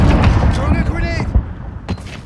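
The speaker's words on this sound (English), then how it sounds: "Throwing a grenade." A grenade blast in the Warzone shooter, a heavy booming rumble with ringing debris under overlapping player voices.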